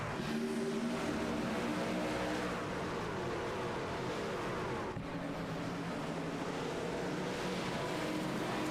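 Racing trucks of the INVETS Sunday Truck Series start a race at Homestead Miami Speedway, producing a loud, steady roar of many engines at full throttle with no talk over it.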